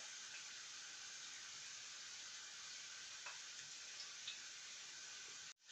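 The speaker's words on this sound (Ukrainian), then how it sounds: "І викладаю я їх на розігріту сковорідку." Zucchini patties sizzle quietly and steadily in a hot frying pan, a soft continuous hiss with a few small pops and a clatter at the end.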